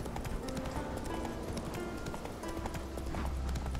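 Horse hooves clop steadily at a gallop in The Witcher 3: Wild Hunt, a continuous rapid rhythm of close, moderately loud hoofbeats over a busy game soundscape.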